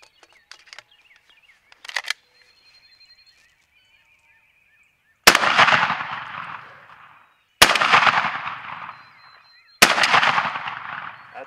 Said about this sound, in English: And now Aaron's going to get his 870 out and shoot some of the 3-inch